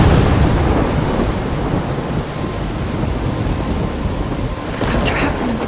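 A steady, loud downpour with rumbling thunder fills a storm scene in the Life Is Strange video game, dense rain hiss running continuously with a brief swell of thunder near the end.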